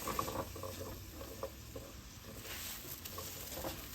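Carrots cooking in a pot for chicken gnocchi soup give a soft, steady sizzle with light stirring scrapes and small clicks, close and fairly quiet, with no talking.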